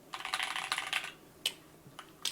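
Rapid mechanical keyboard typing, a quick burst of crisp clacky keystrokes followed by a few isolated presses, close and fairly quiet.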